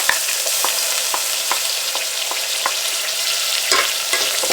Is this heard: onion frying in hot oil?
yes